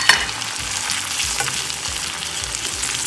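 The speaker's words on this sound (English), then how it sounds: "I was sauteing the dry coconut, shredded coconut into this mixture" Shredded dry coconut sautéing in a pan with green chili for kharda chicken, giving a steady, close sizzle broken by soft stirring scrapes, with no talking.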